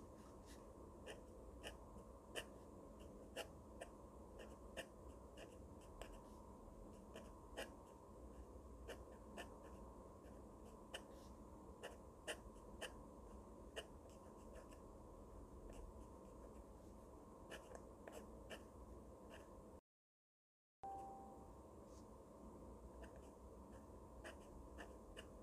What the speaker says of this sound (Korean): 글씨를 한번 써볼게요.